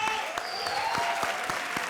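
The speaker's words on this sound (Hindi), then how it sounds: "एक बार इनके लिए जोरदार तालियां।" Studio audience applause on a comedy show, a brief burst of dense clapping with a few sharper individual claps standing out, loud and close, with a voice briefly over it.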